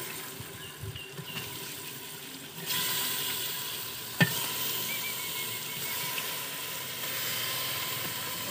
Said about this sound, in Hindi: तो अब मैं इसमें डालती हूँ चिकन